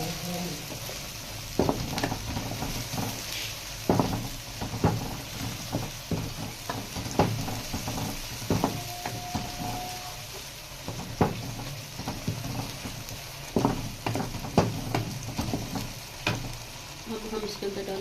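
A mixture frying in a pan for a Pakistani recipe, with a steady close sizzle broken by repeated scraping stir strokes throughout.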